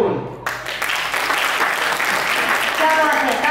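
An audience at an award ceremony for state toppers breaks into loud, sustained applause that swells and holds steady from start to finish.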